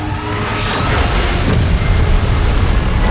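Godzilla firing an energy beam in the PUBG Mobile Mega Godzilla mode, a loud, continuous roaring blast with deep booming rumble that fills the whole stretch without letup.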